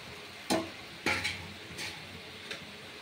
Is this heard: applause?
no